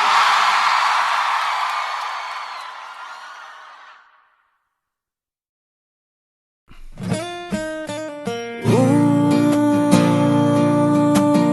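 A large concert crowd at a show in Salvador shouting and cheering, a broad roar that fades out, followed by silence and then music starting.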